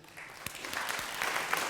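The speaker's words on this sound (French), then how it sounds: "Merci beaucoup Valérie Trouet, qu'on peut applaudir." A brief patch of audience clapping after a talk by Valérie Trouet, faint and scattered, with a few distinct claps standing out against the room.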